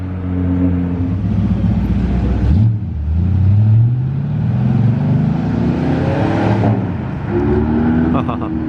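A turbocharged Ferrari F8 engine revs up and down in rising, sweeping bursts, loud and close, with a voice talking over it.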